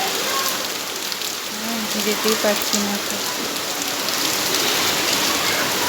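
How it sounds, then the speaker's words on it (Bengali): Rain pours down outdoors near a primary school, a loud steady hiss of drops on surfaces with a person speaking briefly over it. "কি আরে বৃষ্টি"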